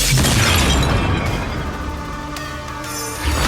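A loud, booming explosion from the Honkai: Star Rail video game bursts at the start, then decays into a sustained rumbling tail with scattered crackles and a small secondary pop near the end.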